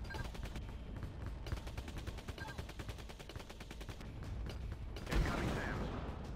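Rapid automatic gunfire from a drone in the mobile combat game Drone: Shadow Strike, with dense bursts of shots rattling through most of the stretch, then a heavier impact or blast near the end.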